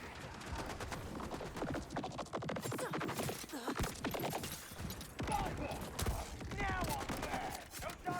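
Dense, rapid gunfire from a shotgun in the video game Borderlands 4, a loud, continuous barrage of blasts and impacts layered under someone talking throughout.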